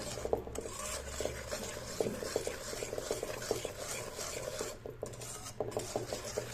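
A spoon stirs a thick mixture of gram flour, ghee, milk and sugar for seven-cup burfi, giving a steady run of soft scraping and clinking strokes against the pan or bowl, close and clear with no talk.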